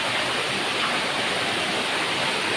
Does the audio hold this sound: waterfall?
yes